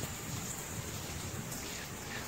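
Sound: heavy rain storm

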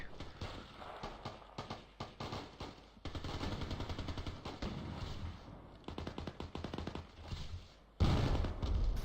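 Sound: gunfire in the video game Battlefield Play4Free

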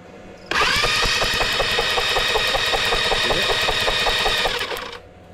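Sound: spark plug sparking on Helix 150 go-kart engine

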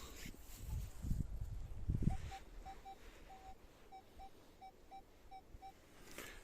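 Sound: Nokta Triple Score 3 metal detector signal over find

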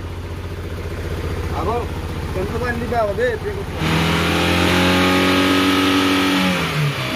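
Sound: Maruti Gypsy engine running with newly fitted silencer

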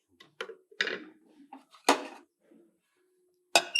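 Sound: straining herbal decoction and putting a lid on the pot

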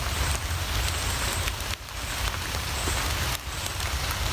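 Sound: heavy rain falling outdoors

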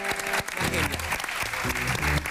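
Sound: audience applause

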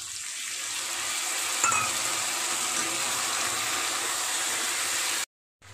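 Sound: arrowroot powder slurry poured into pan of baby corn chilli

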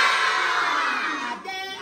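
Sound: children imitating a cat

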